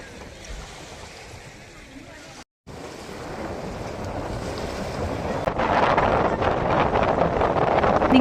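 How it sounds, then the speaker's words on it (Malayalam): Strong wind buffeting the microphone at Kava viewpoint near Malampuzha in Palakkad, a loud continuous roaring rush that swells stronger toward the end, with a brief dropout partway through. "നല്ല കാറ്റുണ്ട് ഇവിടെ"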